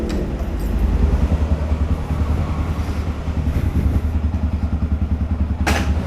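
A motorcycle is wheeled out and started, its engine idling with a close, steady putter, a few thuds and clatters along the way, and a brief sharp noise near the end.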